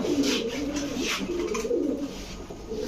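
Budapest pigeons kept as a pair of flying birds coo with repeated low, throaty calls that continue steadily and close by, with faint higher chirps and background noise.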